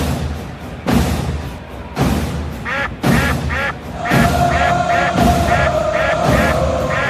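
A duck-quack sound effect plays as a series of loud, repeated quacks over several seconds on a classic-call radio broadcast of a Braves versus Pirates baseball game, with loud background noise.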